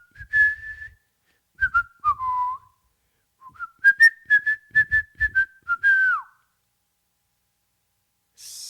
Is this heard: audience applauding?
no